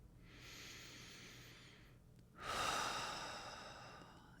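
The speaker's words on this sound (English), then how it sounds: "take a breath in" A slow, deliberate breath drawn in, a soft airy hiss rising and swelling after a quieter exhale, close and intimate against near silence.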